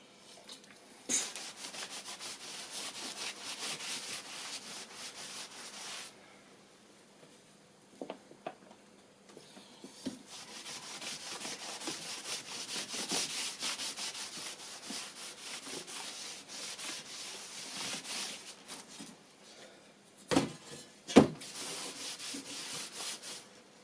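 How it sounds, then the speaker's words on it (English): Abrasive rubbing as steel is cleaned down for TIG welding on a steel pizza oven door, close and continuous in long stretches broken by short pauses and a few knocks. "I'll just give this a clean down because I'm going to weld through"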